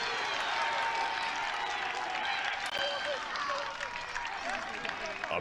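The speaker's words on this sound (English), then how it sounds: "A big cheer from the Delaware faithful" Dense crowd roar of Delaware fans cheering at an NCAA first-round men's lacrosse game against Duke, a steady, loud wash of voices and scattered whoops throughout.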